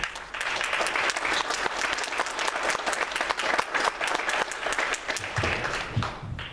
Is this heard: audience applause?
yes